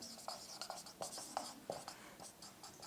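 Pen strokes scratch across paper as a teacher writes out a geometry equation by hand, a quick series of faint rhythmic scribbles and taps with soft breathy murmurs around them.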